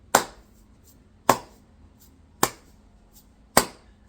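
Four sharp hand claps in an even, slow rhythm, each crisp and close with a short decay, spaced about a second apart over quiet background.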